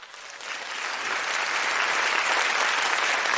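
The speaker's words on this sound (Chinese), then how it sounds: "掌声谢谢师母好吗？" An audience at a birthday thanksgiving banquet bursts into applause for the master's wife, the clapping building from moderate to a loud, sustained dense wash with no voices over it.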